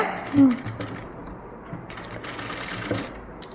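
Sewing machine stitching along the edge of a nighty, a steady mechanical whir with bursts of rapid needle clatter, close and moderately loud, pausing briefly before running again.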